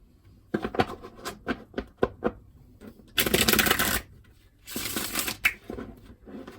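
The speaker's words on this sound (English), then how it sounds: "So just let me shuffle this at least 3 times." A deck of tarot cards being shuffled up close, with bursts of riffling and rapid card slaps in repeated runs, interspersed with sharper taps and longer whooshing riffles.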